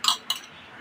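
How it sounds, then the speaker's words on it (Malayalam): Dishes clink while being washed by hand, two brief bright clinks of utensils knocking together in quick succession, close and clear with no voices. "ഞാൻ ഈ പാത്രമൊക്കെ ഒന്ന് കഴുകി വെച്ചിട്ട്"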